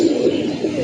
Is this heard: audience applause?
no